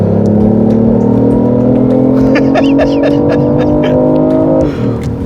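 A BMW i8 with a 1.5-litre engine drones loud and close as it accelerates, its steady tone climbing gradually before easing off near the end, with faint voices beneath.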